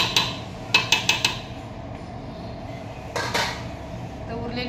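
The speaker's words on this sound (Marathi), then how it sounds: "एकदा हलवून द्यायचं आणि झाकण ठेवून खिचडी मस्त शिजू द्यायची" A utensil clinks sharply against a metal pot four times in quick succession as rice is stirred into boiling water for mixed-vegetable khichdi, then a lid clatters down on the pot; faint low voices linger underneath.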